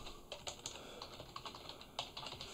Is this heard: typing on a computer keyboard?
yes